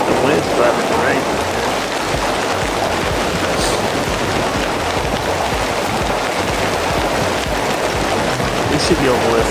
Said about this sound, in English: The wind's driving the rain.